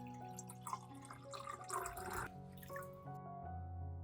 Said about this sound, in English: Fill the cup almost full with water.